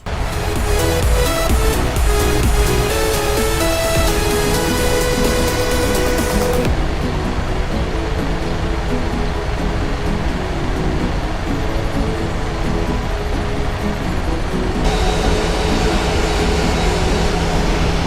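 A PMDG 737-800 in flight in the P3D v4.5 flight simulator, an Air Europa service from Turin to Madrid. A loud, steady engine and airflow roar runs unbroken throughout, with its tone shifting slightly midway, and no talk over it.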